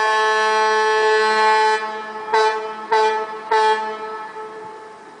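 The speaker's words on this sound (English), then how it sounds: "That's the sound of a ship on the River Avon as it passes under the Clifton suspension bridge." A ship's horn sounds on the River Avon as the vessel passes under the Clifton Suspension Bridge in Bristol. One long, loud, rich tone is followed by three shorter blasts, and there is no talking.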